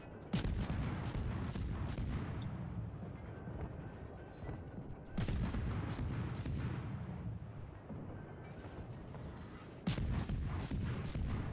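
Heavy naval guns firing in the warship game World of Warships, three booming salvos several seconds apart, each a loud crack and blast that rolls on into a long rumbling decay.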